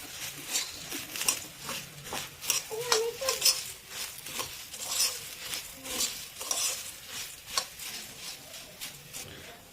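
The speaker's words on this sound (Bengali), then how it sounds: "মুড়িটাকে ভালো করে এর সাথে মিক্স করছি" Puffed rice (muri) being stirred and tossed in a pan on a gas stove over high heat, a steady rustling, scraping patter with light utensil clicks, close and continuous, no talking.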